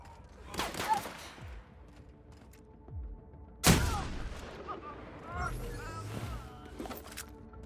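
Shotgun gunfire in the video game The Outer Worlds: scattered loud blasts, one especially sharp close shot in the middle, with echoing tails and other game noise around them.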